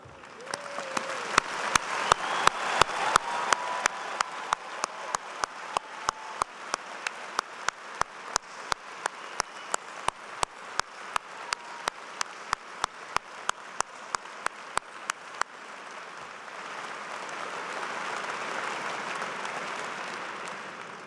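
An engineering commencement audience gives veterans a long ovation. Sharp, steady rhythmic claps ring through a large hall and settle into scattered applause and crowd murmur near the end.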